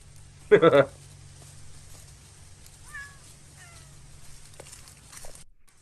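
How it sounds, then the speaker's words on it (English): A single short, loud meow close by, followed by quiet room noise with a few faint chirps and soft sounds. "there's a cat in the background somewhere, probably."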